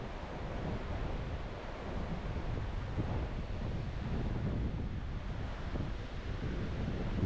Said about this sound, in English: It's been so windy